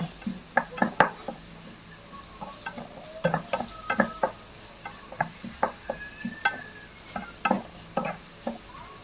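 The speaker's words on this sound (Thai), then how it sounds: "ผัดนะคะผัดให้เข้าที่ให้แครอทเขา เข้ากันกับ หัวหอมใหญ่" Egg, chopped carrot and onion stir-fried for bacon fried rice, rapid spatula scrapes and knocks against the pan in an irregular rhythm over a light, close sizzle.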